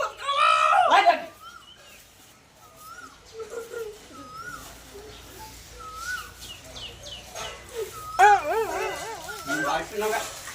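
A dog yelps and whines between short barks, nearby and moderately loud, while people talk around it.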